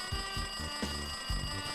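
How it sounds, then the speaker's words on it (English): A telephone rings in a lounge room in the video game Danganronpa 2, a steady repeating electronic trill pulsing in short bursts, loud and close with no voices. "It looks like that phone is ringing."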